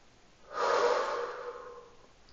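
A single long, close exhale through the nose and mouth, a soft breathy rush swelling and then fading while a person holds a plank on their knees, no talking.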